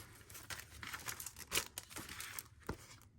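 Scrapbook paper and other craft paper being sorted by hand, giving soft, close crinkling and rustling with a few sharper crackles and little pauses, no voices over it.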